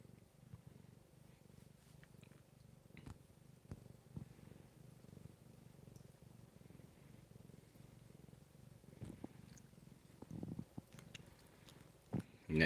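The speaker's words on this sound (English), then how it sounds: "See if y'all can hear the little baby's little purr." A small kitten purrs softly and close, a low rumbling rhythm running throughout, with occasional light rustles and small mouth sounds on top.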